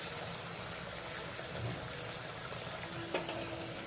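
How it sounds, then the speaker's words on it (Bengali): Potato pieces frying in a pan, a soft, steady sizzle and bubbling of oil, quiet and close with a faint tonal whine near the end. "এই আলু ভাজছি অল্প অল্প করে ভেজে নিচ্ছি"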